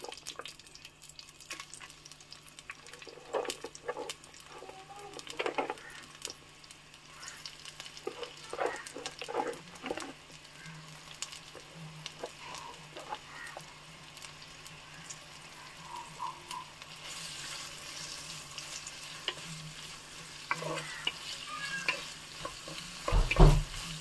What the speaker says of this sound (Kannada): ಆಗ ನಾವು ಈರುಳ್ಳಿ ಹಾಕುವ.